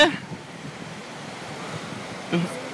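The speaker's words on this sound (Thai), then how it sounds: "เห็นคลื่นยักษ์นั้นไหม" Giant ocean waves in a sea simulator video game make a constant, close, wind-blown wash of surf with a faint brief blip near the end.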